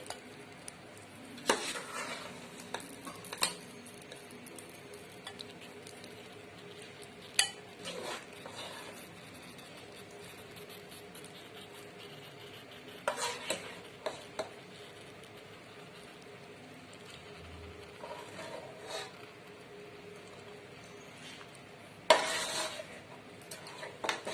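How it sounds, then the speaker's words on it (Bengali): Rice being stir-fried in a pot for chicken biryani: soft, scattered clinks and scrapes of a utensil against the pot, quiet and intermittent over a faint background hiss. "এর মধ্যেই আমি চাল কষিয়ে নেব।"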